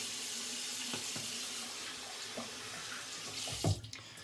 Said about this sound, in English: I rinsed my face